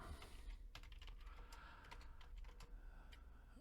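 Quiet, quick clicks of typing on a computer keyboard come in an uneven stream of soft keystrokes with no speech.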